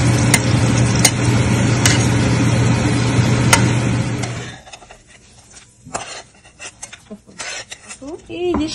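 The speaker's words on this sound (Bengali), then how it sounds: "মরিচ ভাজার জন্য" Dried red chilies frying in olive oil in a pan, first as a steady loud sizzle with sharp metal clinks, then quieter intermittent crackles and scraping after the sizzle dies down.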